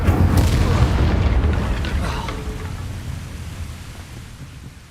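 A fire spell blast in the video game Hogwarts Legacy: a loud, rumbling boom bursts at the start and fades over several seconds, with no talk.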